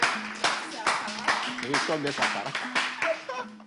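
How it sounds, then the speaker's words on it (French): An audience claps for Dimi, scattered hand claps in irregular bursts that come and go beneath someone talking throughout. "Est-ce qu'on peut applaudir Dimi?"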